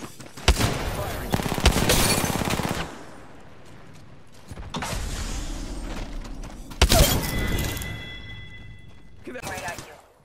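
Bursts of gunfire in the battle royale game Apex Legends, with rapid loud volleys in separate clusters, mechanical clicks and reload sounds between them, and game voices speaking during the fight.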